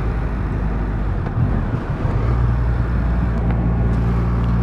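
A 2021 Triumph Rocket 3 R motorcycle on the road, a loud continuous low engine rumble with wind and road roar, rising slightly in the second half, no voices.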